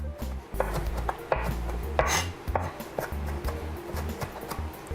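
A knife chops herbs finely on a cutting board, a quick irregular series of close, sharp taps and thuds.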